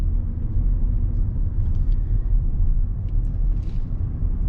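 A 2023 Lexus RX 350 drives along back roads, heard from inside the cabin as a steady low rumble of engine and road noise with no speech.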